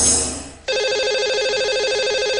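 A telephone rings steadily as a call is placed, a pulsing electronic warble that cuts in abruptly after a fading tone and continues evenly.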